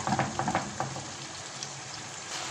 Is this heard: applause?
no